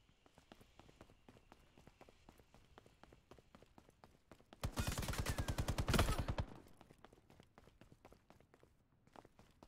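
Rapid automatic gunfire in the Veiled Experts shooter, a loud burst of about two seconds rising out of quieter rhythmic footstep-like clicks and ambience.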